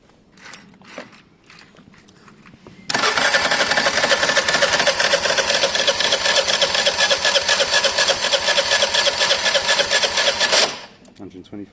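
A 125cc Aprilia scooter engine cranks over during a compression test, a loud continuous rhythmic churning lasting about eight seconds, with brief quieter mechanical handling before and after.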